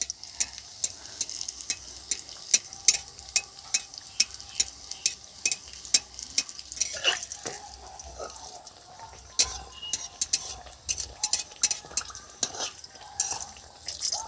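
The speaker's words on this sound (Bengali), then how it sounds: "একটা কচুরি ভাজা হয়ে গেছে তুলে নিলাম" A kochuri fries in a small amount of hot oil with hot oil spooned over the top, giving a close, continuous crackle dense with sharp pops and spatters throughout.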